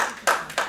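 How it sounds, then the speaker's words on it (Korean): Two brief bursts of clapping from a church youth group audience, the first sharp onset followed by a second short burst, fairly close and loud, with no talk over them. "비순 용사를 위해서 박수 한번 합시다."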